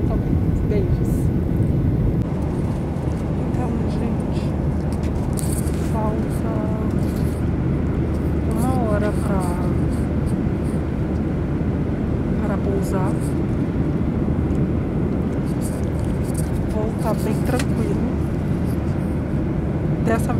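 Steady airplane cabin drone during a Gol flight, a constant low roar of engines and air with occasional faint chirps and clicks over it, and voices in the cabin in the background.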